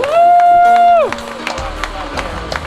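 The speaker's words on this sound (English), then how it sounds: "Give yourselves a round of applause right now." A crowd at the Super D 2025 gathering of drivers, media and staff claps and cheers in a brief burst, with loud whoops and scattered claps trailing off behind babble.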